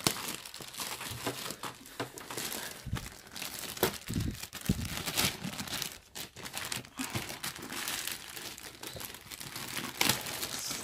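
Plastic packaging for a Kopack tech backpack crinkles and tears for about eleven seconds as it is ripped open by hand, up close and continuous, with sharper rips scattered throughout and no talking.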